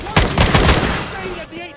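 Automated security turrets open fire in Fallout 4 during a lockdown: a loud, rapid burst of shots in the first half that cuts off and fades into quieter background sound.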